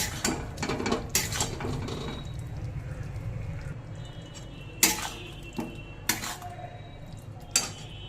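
Shankar fish being mixed by hand or spoon with ginger paste, garlic paste, coriander powder and salt in a bowl, giving sharp clinks and clatters of utensil against dish, with scattered louder knocks through the mix and no talk.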